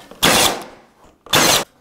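A nail gun fires nails into decorative ceiling trim, producing two loud, sharp pneumatic bursts about a second apart, close by, with a quiet gap between them.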